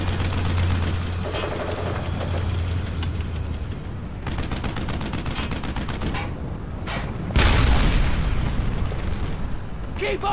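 Dense gunfire from the Brothers in Arms: Hell's Highway video game crackles in rapid bursts of loud shots with a heavier blast near the end, while voices talk over the combat.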